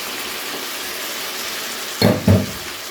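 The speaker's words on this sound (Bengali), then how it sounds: "কমিয়ে নিয়ে এখানে যোগ করে দেবো টক দই। টক দইটাকে ভালো করে ফেটিয়ে নিয়েছি। এবারে এটাকে যোগ করে দিলাম।" Whisked sour yogurt poured into a vegetarian curry pan over a low flame, giving two short, close wet splashes and a brief sizzle over a steady background hiss.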